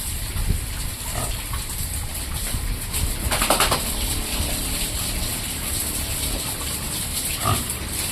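Pigs of a mixed breed grunting in a farm pen, with several short bursts scattered over a steady outdoor background.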